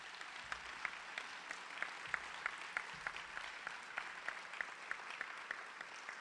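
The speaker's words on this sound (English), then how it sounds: "please give them a huge round of applause" Audience applause at the 2016 Rogers Scholars Week 2 graduation ceremony, a steady wash of many hands clapping at low level, sounding distant and even throughout, with no voices over it.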